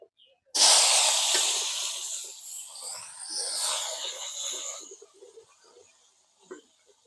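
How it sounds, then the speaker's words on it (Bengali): Food hits hot oil with a sudden loud sizzle that gradually settles into a softer, steady crackle before fading. "এবার আমি উচ্ছে ভেজে নেবো"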